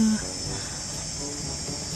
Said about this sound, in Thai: จิ้งหรีดร้องนะคะ